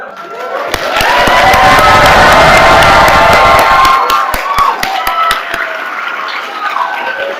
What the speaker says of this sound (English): I'm wondering if we could do an even better round of applause to our 2025 graduates